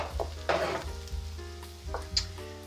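Onions go into a pan beside a sizzling ham steak, bringing bursts of crackling sizzle and short stirring scrapes over a low steady hum, close and moderately quiet.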